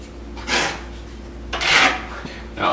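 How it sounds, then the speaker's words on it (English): Thin set mortar being spread over taped shower board joints, heard as three broad rasping trowel strokes, each about a third of a second, scraping in close with quiet pauses between them. "you get thin set mortar and cover these joints just like you do drywall"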